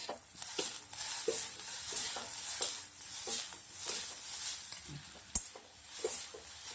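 Mexican-style noodles with green peas are stirred and mixed in a pan, giving rhythmic, fairly soft scraping strokes over a light continuous sizzle, with one sharper knock near the end.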